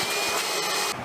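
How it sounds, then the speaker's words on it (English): A shop vac blowing air to inflate a dinghy gives a steady, loud broadband whoosh with a faint whine, running continuously alone for about a second. "That's a shop vac."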